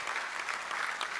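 Steady, dense clapping from an audience at a Ghana College of Physicians and Surgeons annual meeting, a brief continuous burst of applause at moderate loudness with no speech over it.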